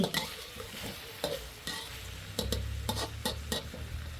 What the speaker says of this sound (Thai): ก็จะผัดต่อไปที่บ้านชอบแห้งๆ ค่ะ